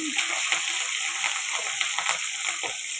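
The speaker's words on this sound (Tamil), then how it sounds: "நல்லா வெங்காயம் வதங்கட்டும்" Chopped onions, green chillies and curry leaves sauté in a pan with a loud, continuous sizzle and occasional scraping stirs, alone and close.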